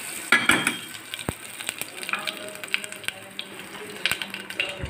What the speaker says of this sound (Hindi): और ये है तड़का, इसे मैंने लिया है जीरा, हींग और वो सरसों